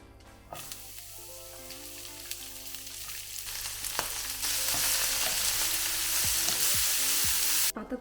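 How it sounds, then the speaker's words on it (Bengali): Shredded cabbage stir-fries on high heat in a pan, a steady hiss of sizzling that grows louder and denser, with occasional scraping stirs, before cutting off abruptly at the end. "পাতাকপি ভাজি করা শেষ।"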